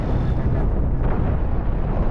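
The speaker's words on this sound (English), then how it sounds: "the cannon shots are chewing it apart now" Rumbling cannon impacts battering a spaceship in Cosmoteer, a dense, continuous low roar of bursts and explosions with no clear gaps, loud and close throughout.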